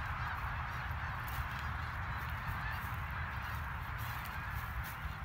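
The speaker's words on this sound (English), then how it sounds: "I'm checking out these birds." Geese or ducks honk and quack at a distance on a Christmas Day outing, faint repeated calls over a steady hiss of outdoor background noise.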